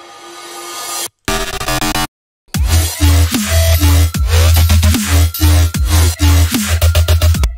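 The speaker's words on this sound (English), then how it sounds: "some more, just some like rising sounds" Electronic dubstep build-up with rising, sweeping synth tones over a heavy pulsing bass, broken by two short silent gaps near the start.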